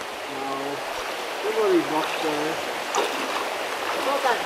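Creek water runs steadily with a soft rushing wash at a shallow rocky creek crossing in the Daintree near Port Douglas, where a car is about to ford, while a voice talks over the flow.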